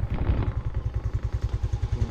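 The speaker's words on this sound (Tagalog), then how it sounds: "Napakahusay pa ng motor natin mga sin, napakatahimik, napaka fresh." A motorcycle engine idles quietly and steadily at close range, a smooth, even low thrum with regular pulsing beats and no voices over it.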